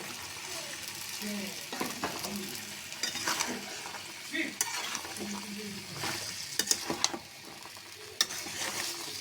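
Potatoes, tomatoes, green chilli and peas sautéing in a pan, a steady soft sizzle broken by repeated scraping stirs and light clinks of a spatula against the pan, close by, with no talking.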